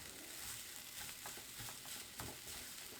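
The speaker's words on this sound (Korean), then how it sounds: "절인 당근은 물기를 꽉 짜서 살짝 볶아줄 거예요" Squeezed pickled carrots stir-fried briefly in a pan, giving a steady close sizzle with soft scraping and stirring taps throughout.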